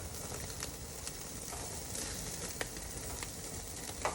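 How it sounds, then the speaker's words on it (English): Lamb chop lollipops sizzle steadily on a hot grill, a dense continuous crackle with a few sharper pops from flare-ups, close and alone. "look at how that meat's sizzling on there"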